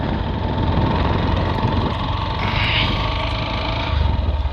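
A motorbike engine drones steadily and closely on a village road in Sylhet near the Meghalaya hills, with wind rush and a constant low rumble throughout.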